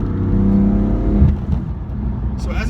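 A tuned BMW M4 making over 600 horsepower revs loudly as it downshifts, the engine note rising and dropping sharply, with a voice talking briefly over it.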